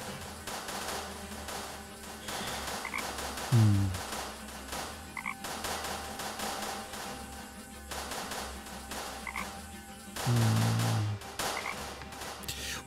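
A frog croaks twice in the adventure game Deponia, deep short croaks spaced several seconds apart over a steady ambient background with light rhythmic tapping.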